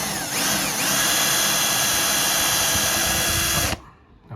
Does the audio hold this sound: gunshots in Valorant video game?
no